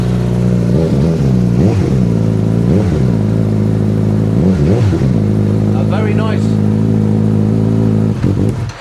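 A motorcycle engine runs at a steady, deep, throaty idle with several revs swelling and falling, loud and close, as a person briefly speaks.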